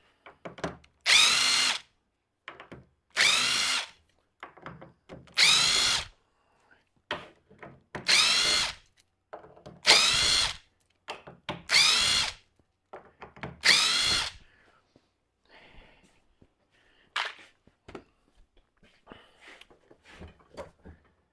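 Power drill backing screws out of an old workbench, about seven loud whirring bursts in a regular rhythm with short pauses between them, followed by quieter handling noises and a brief faint buzz.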